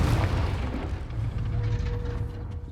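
Confringo fire spell explosion in Hogwarts Legacy, a heavy booming blast with dense low rumble that holds loud and then slowly tapers off.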